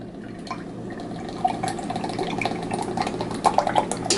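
Fourteen ounces of condensed milk pour into a bowl for a flan, making a soft, thick, steady trickle with small drips and plops near the end, heard up close with no talking.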